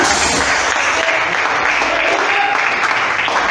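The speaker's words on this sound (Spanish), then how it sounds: "démosle palmas a Él, pero recio, recio" Church congregation clapping loudly during a sermon, a thick, sustained wash of many hands with a faint voice or tone underneath, loud and steady.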